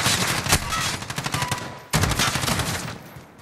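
Video game gunfire: loud, dense automatic shooting in two sustained bursts separated by a brief pause, close and continuous, with no talk.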